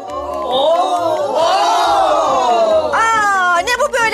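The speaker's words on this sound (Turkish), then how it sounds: "Böyle 90 dakika tezahürat mı yapacaksınız?" Crowd of fans chanting and cheering like a football stand, loud rising and falling massed voices with shouted bursts, continuous for several seconds.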